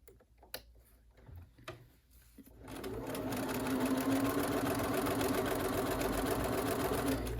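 A sewing machine stitches a medical mask for medical workers. A few scattered clicks and handling noises come first, then a steady, close, fast mechanical whir runs continuously to the end.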